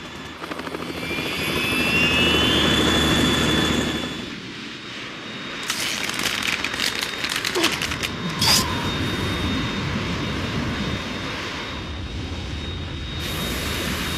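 Harrier jet in the video game Metal Gear Solid 2, a loud roaring engine wash that swells and dips, followed by a sustained rumbling drone with sharp bursts layered over it.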